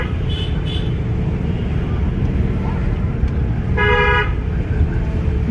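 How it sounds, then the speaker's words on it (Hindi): Car horn sounding during a driving lesson on the road in Gohana, a short honk near the end over steady engine and traffic noise inside the moving car. "तो तुरंत हॉर्न बजा दे।"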